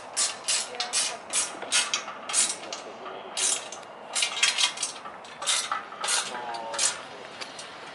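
Metallic ratcheting and clinking of tools as an Allen wrench turns bolts on a vehicle U-bolt setup, in quick close bursts with brief gaps between them.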